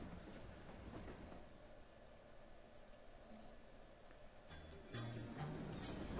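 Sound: train running, from Paper Mario: The Thousand-Year Door video game

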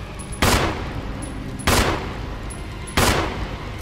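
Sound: gunshots in Resident Evil video game

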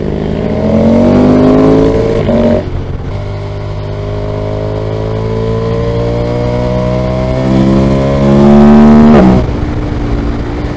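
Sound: Yamaha Tracer motorcycle engine revving at high RPM

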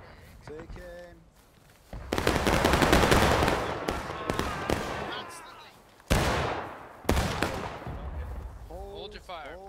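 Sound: musket volley gunfire in video game War of Rights

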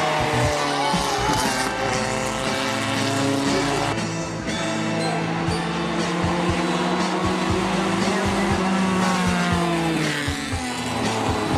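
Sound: historic formula race cars racing at hill climb

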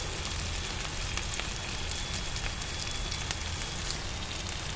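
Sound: onions frying in oil with curry leaves

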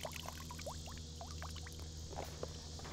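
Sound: water soaked into a hat while fishing

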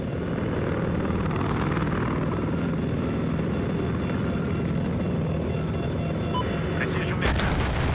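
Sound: helicopter in the video game Battlefield 4

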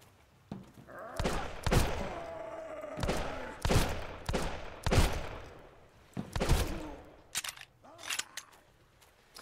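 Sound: gunshots in the video game Sunkenland

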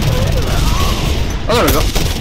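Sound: grenade explosions in the video game Just Cause 2

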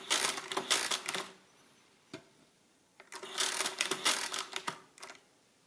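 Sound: Precisa 117 mechanical calculator crank being turned

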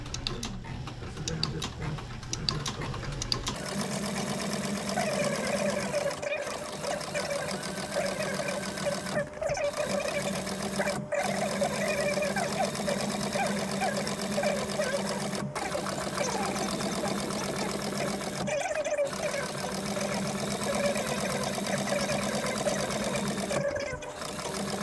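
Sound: Cobra Class 4 sewing machine stitching three layers of leather

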